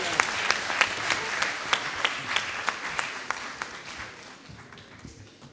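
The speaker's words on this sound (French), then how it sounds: "Merci Xavier Laurent, on peut l'applaudir." Colloquium audience at the Collège de France applauding a speaker, a dense crowd of clapping with a few sharp, louder claps near the front, gradually fading out over several seconds.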